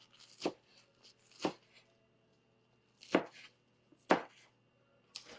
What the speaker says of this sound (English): We'll chop this up a little bit real quick